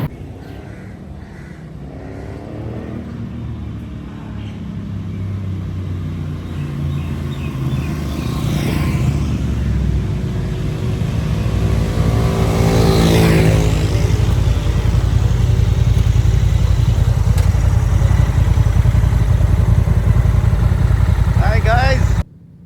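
Someone rides a Honda Africa Twin motorcycle early in the morning near Lahore, with a continuous low engine rumble and wind roar that slowly grows louder and steadier before stopping abruptly.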